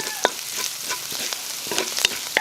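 Garlic frying in a pan for chicken manchurian, a steady sizzle broken by scattered stirring scrapes and small pops, close and fairly loud with no talking.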